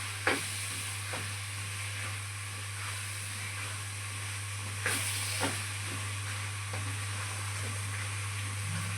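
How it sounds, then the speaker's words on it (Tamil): Steady soft sizzle of spinach cooking in a pan, with occasional stirring scrapes and clinks, close by over a constant low hum. "இதிலே வதக்கி விட்டால் வணங்கிடும்"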